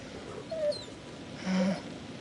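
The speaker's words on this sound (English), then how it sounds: "whimpering." Faint whimpering in the horror video game The Devil in Me, two short high whines about a second apart, heard quietly over a low ambient background.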